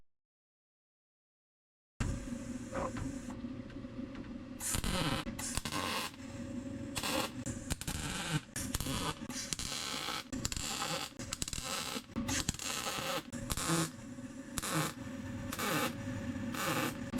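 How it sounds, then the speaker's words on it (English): A homemade RC car frame being welded up, with repeated bursts of crackling, buzzing arc noise starting and stopping in an uneven rhythm, loud and close throughout. "let's weld this up."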